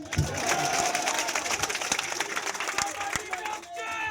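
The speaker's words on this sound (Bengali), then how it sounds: "আমার নেতার জন্য একটা জোরে তালি হবে।" Crowd applause and clapping for a BNP leader at the opening of a union party office, a dense, steady roar of hands through the whole stretch with voices mixed in and a few louder sharp claps.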